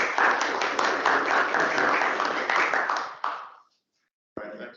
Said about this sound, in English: So how about a round of applause for yourselves?